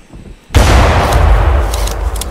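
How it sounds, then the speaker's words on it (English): Gunfire in a video game as a player shoots at an attacking Utah Raptor: a sudden loud burst of rapid shots erupts after a quiet moment and keeps roaring densely to the end. "I gotta shoot!"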